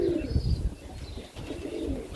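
Serbian Highflyer pigeons coo softly at close range in a windy outdoor setting, a low murmuring burst early on followed by quieter intermittent calls over a steady breezy background.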